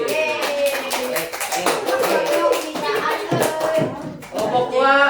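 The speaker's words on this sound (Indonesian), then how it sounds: "Tepuk tangan lagi." Schoolchildren in a classroom clap for a group after its presentation, quick bursts of close, sharp hand claps in uneven rhythm, with children's voices chattering over and between them.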